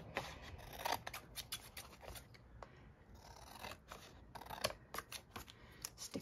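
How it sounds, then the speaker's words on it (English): Scissors snip through paper repeatedly in quick, crisp bursts, close and fairly quiet, with brief pauses between runs of cuts. "So I'm going to take my scissors and I'm going to go around."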